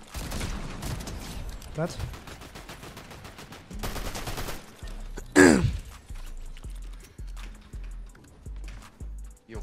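Gunfire in a battle royale shooter, a cluster of sharp broadband bursts with one loud shot standing out midway, heard under a chatty game mix with voices talking over it.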